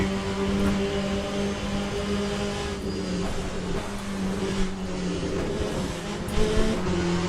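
Several race cars in Le Mans Ultimate hold a continuous, layered engine drone, steady and fairly loud throughout, with slight swells as cars pass and a faint hint of tire scrub.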